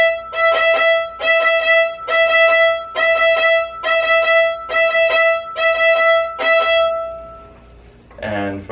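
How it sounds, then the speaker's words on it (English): A violin plays the Run Pony rhythm, eight evenly paced groups of short bowed notes on one steady pitch, close and bright, followed by a brief burst of a voice at the end. "And here it is on the violin."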